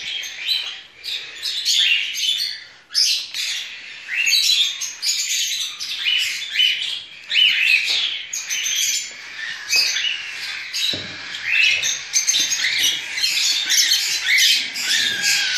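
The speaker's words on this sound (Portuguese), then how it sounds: "Agora vamos alimentar as aves." Lovebird, cockatiel and budgie chicks squawk and chirp continuously and loudly at close range during hand-feeding, a dense chorus of shrill begging calls with no talking.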